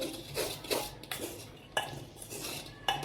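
Semolina being stirred into wheat flour dosa batter in a bowl, a spoon knocking and scraping against the bowl in a few sharp clinks between softer wet mixing strokes, close and quiet.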